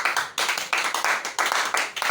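A church congregation at a worship service claps its hands in a quick, steady rhythm, loud and close, with regular accented beats about every third of a second.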